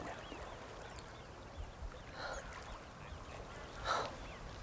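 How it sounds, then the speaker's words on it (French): Mallard ducks, drakes with green heads, give a few short quacks at moderate distance over a low outdoor background hush, with one louder call near the end. "Qu'est-ce qu'ils sont jolis quand même, ces canards. Regarde, surtout les mâles avec leurs jolies petites têtes vertes."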